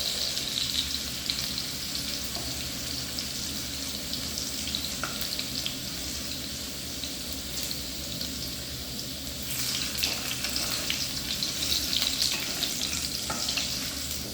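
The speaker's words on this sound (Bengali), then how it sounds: "আলু প্রায় ভাজা হয়ে গেছে, এবার আস্তে আস্তে তুলে নেব" Potatoes fry in hot oil for a Bengali chicken and potato curry, a steady close sizzle and crackle running unbroken under faint clinks of stirring, with no voices.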